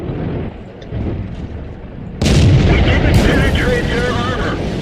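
A tank's main gun firing in the World of Tanks video game, an M6 heavy tank: one loud, sudden boom cuts in midway and leaves a long rumbling tail, following a quieter stretch of engine-like rumble.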